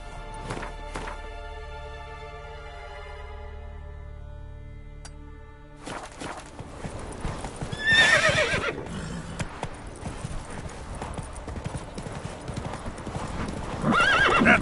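Hoofbeats of a horse galloping in The Witcher 3, a steady clip-clop rhythm running loud and close after a sustained musical score, with a sharp neigh breaking in partway through.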